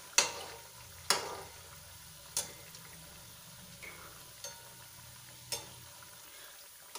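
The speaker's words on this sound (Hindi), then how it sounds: "इसमें हम बिस्किट्स को बेक नहीं कर रहे हैं, फ्राई कर रहे हैं" Biscuit dough fries in oil with a quiet, continuous sizzle, broken by several sharp clicks or taps at irregular intervals and no voices.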